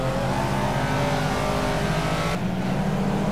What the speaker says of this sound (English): And you can hear the rear end broke free on me right there.